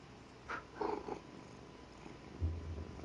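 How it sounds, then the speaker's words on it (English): A cat purring softly and close by, a low steady rumble with a few faint rustles and small noises over it. "I hear purring now."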